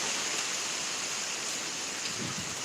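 Wind and rain from a thunderstorm in Pittsburg, Kansas make a steady, even hiss, with faint gusts swelling now and then.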